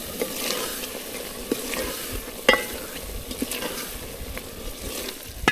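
Chana dal frying desi style in a pot on a stove, with a steady close sizzle broken by repeated scraping stirs of a utensil against the pot.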